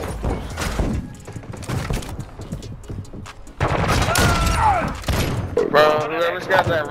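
In an online shooter game, a sniper rifle fires with sharp booming reports amid other gunfire, while players talk loudly over voice chat throughout.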